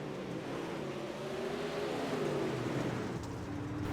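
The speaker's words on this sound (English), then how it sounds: "just listen to the throttle control that this guy has right now" Dirt super late model race car engine at Lanier heard from on board, a steady loud droning roar with throttle fluctuating in pitch, continuous throughout.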